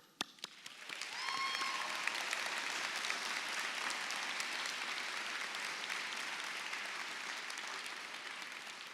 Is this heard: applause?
yes